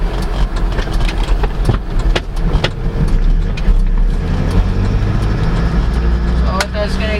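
A 2022 Fuso Canter FE71 passenger van's engine drones steadily while driving, with a low, even hum, scattered clicks and rattles from the cab, and a faint voice over it.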